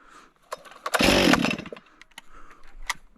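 A chainsaw cutting firewood gives one loud, close roaring burst of about half a second, then fades into scattered knocks and rustles.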